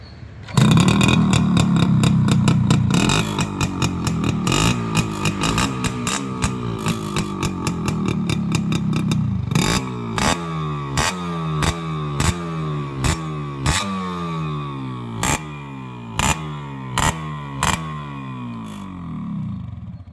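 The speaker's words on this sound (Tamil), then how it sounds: "இப்போ இந்த வண்டியோட பீட் சவுண்டு கேட்கலாம் வாங்க" A restored Yamaha RX135 motorcycle revs hard with a loud, sustained roar, then drops to a slower, loosely pulsing engine beat with occasional throttle blips, close and unaccompanied.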